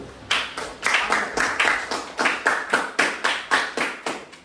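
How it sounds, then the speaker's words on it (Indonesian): Classroom students clap together for group 1 in a steady, unison rhythm of about a dozen sharp, close claps at an even pace. "Tepuk tangan dulu untuk kelompok 1."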